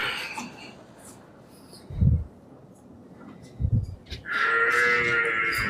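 Buffaloes for sale on a farm give low grunting calls and snorts, two short deep bursts near the middle, followed by a longer, louder lowing call at the end, with quieter rustling and breathing between.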